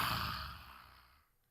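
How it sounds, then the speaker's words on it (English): A single lion's breath, a loud, exaggerated open-mouthed exhalation, rushes out breathily and tapers away over about a second. "Now lion's breath sounds like this."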